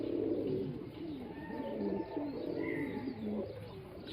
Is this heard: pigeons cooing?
yes